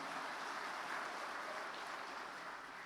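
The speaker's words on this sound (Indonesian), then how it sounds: "tepuk tangan buat Mas Hasim dan teman-teman" Audience at the opening of a national election-supervisors' consolidation meeting applauding, a dense, even wash of clapping that holds steady and fades slightly toward the end.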